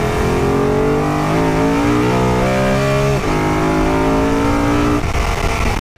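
A BMW M3 engine revs hard near at hand, its loud, rising and falling tone climbing through several quick sweeps before cutting off abruptly at the end.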